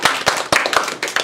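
A lecture audience claps to welcome a speaker before an informative speech, a brief burst of several sharp, uneven hand claps from a small group, fairly close.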